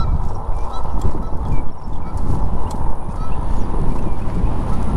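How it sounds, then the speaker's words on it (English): Geese honk in a noisy outdoor scene at Paul B. Johnson State Park, their calls mixed into a rough, continuous rush of wind and ambient noise. "These old geese around here now."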